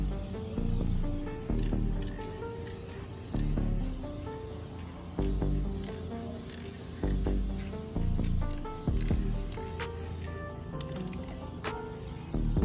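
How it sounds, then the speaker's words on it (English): Clear coat sprays onto a Ford F250 truck emblem in short repeated hissing bursts from a spray can, close to the microphone, separated by brief pauses and faint handling clatter. "now we're gonna hit it with the first layer of clear coat"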